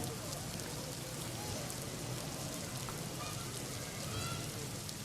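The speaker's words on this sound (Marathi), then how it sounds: "पुणे जिल्ह्यामध्ये मुसळधार पाऊस झालाय" Steady, dense monsoon rain hiss fills the scene in Pune, with faint honks and murmured voices in the background.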